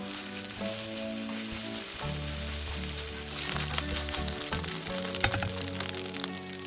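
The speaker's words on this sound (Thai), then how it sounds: "ใส่ข้าวสวยที่แช่เย็นแล้วหนึ่งคืนตับลงไปค่ะ หลังจากนั้นผัดส่วนผสมจนเข้ากันดีค่ะ" Chilled day-old cooked rice stir-fried in a hot pan for bacon egg fried rice, a steady close sizzle with scraping and crackling that grows busier partway through, with no voices.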